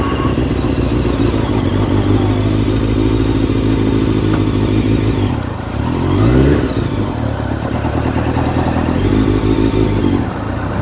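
A 2003 Honda CBR F4i sport bike, freshly rebuilt, runs loud and steady close by, then revs up in a rising surge midway before settling back to a constant engine drone.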